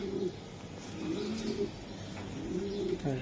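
Long-feathered racer pigeon cooing in a loft, several soft throaty coos in a repeating pattern, close and moderately loud against a steady background hiss.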